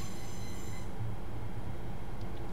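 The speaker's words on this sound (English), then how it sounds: "As you see, our train's coming across just fine" Simulated train rolling over a track junction in Train Simulator, a steady low rumble of wheels on rails with faint squealing, continuous and fairly close, with no talking.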